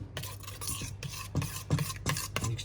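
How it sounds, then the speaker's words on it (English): A spoon stirs soy sauce salad dressing in a bowl, giving a steady, close rasping scrape in repeated strokes with brief pauses between them. "So we can gently just stir that around."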